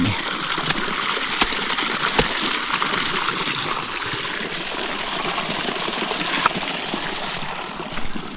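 Irrigation water gushes and rushes steadily into a rice field throughout, a dense continuous roar with occasional faint clicks and a low engine-like rumble underneath.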